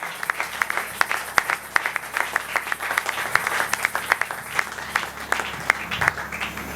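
A church congregation at a preaching marathon applauds as the preacher comes forward, with steady, moderately loud clapping of many hands and sharp individual claps standing out, and a faint crowd murmur beneath.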